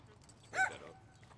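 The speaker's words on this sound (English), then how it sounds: "Dang, dudes be barking, huh?" A dog lets out one short, sharp bark or yip at moderate distance during a group dog-training class, standing alone against a quiet background.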